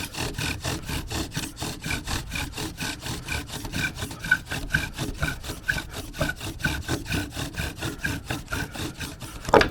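A wooden bow drill spindle is sawed rapidly back and forth against a wooden fireboard and bearing block, giving a fast, rhythmic rasping squeak of about forty strokes, close and continuous with no talk.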